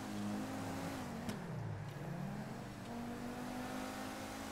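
The engine of a Maibatsu Penumbra sports car in GTA 5 Online revs and idles, a steady droning hum that dips briefly and then rises again, moderately quiet and continuous with no talking.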